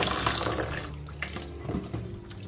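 Cold water pours from a tap over freshly boiled noodles in a sink, a close rushing flow that starts strong and tapers slightly with small splashes.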